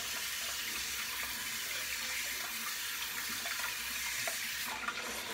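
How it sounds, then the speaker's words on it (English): Tap water runs steadily to wet the knot of a shaving brush, a constant close hiss and splash with no talking. "Let me wet the knot."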